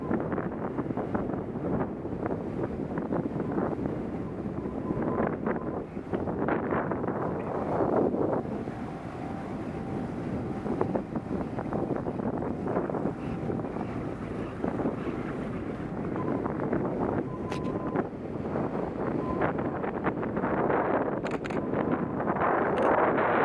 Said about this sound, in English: the winds are just picking up now up here, and it got real windy